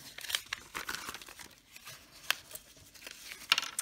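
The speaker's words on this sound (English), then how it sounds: "and then peel everything off." Sprayed stencil layers and paper towel are peeled off a painted piece, giving soft crinkling and tearing rustles with a few sharper snaps, close and quiet with no speech.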